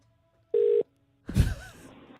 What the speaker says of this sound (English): So that's Hamish on the phone, and Andy calls him up